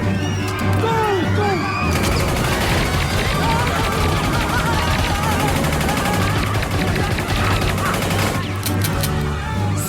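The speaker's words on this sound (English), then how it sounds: "Use the machine gun!" Machine gun fire crackles in a dense, continuous burst of rapid shots with shouting voices over it, loud and close for nearly ten seconds, easing briefly near the end.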